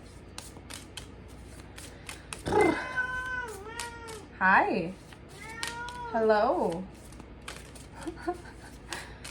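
A pet cat meows several times, drawn-out, wavering calls in three main bursts close by, while a woman greets it softly between the meows.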